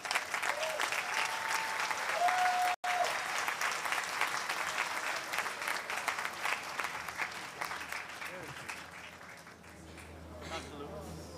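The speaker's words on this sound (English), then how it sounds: "Let's give a big round of applause to the IPAM graduates." Sustained applause from a commencement audience for graduates, a steady wash of many hands clapping that fades near the end as someone begins speaking.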